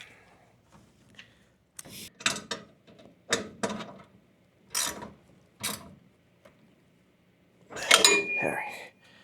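Metal parts of a Katool KT-B760 / KT-T830 tire changer being tightened during assembly, giving several short clanks and ratchety clicks spaced out irregularly, ending in a louder clattering burst, with faint background voice.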